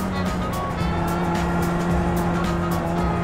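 Race car engine droning with a steady tonal hum alongside squealing, skidding tires in a sim racing game, loud and continuous with sharp repeated bursts.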